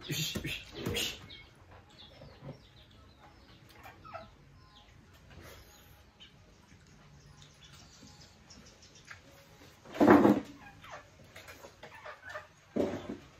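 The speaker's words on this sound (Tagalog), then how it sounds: "Siguro ng manok namin." Chickens cluck intermittently nearby, with a few louder bursts scattered among quieter background noise.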